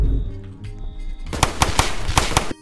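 Gunfire from a gun in the Roblox game: after a short stretch of in-game music and tones, five or six sharp, loud shots crack out in a quick, slightly uneven sequence.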